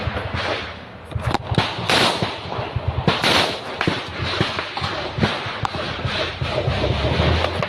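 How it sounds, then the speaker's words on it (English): Automatic gunfire in trench fighting, with dense bursts of sharp cracks and pops at varying distance, some loud and close, others fainter, under a rough, continuous background of movement. "We now see him continue to pop over the trench sporadically, laying down automatic fire."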